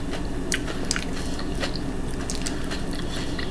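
Close-up chewing of crunchy potato salad with moist, crunchy bites, steady mouth sounds throughout and sharp crackly crunches scattered across the clip.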